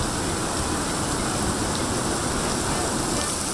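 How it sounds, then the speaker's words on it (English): Heavy rain pours down in a dense, steady roar, with no break in the downpour. "There's a lot of rain, really fast."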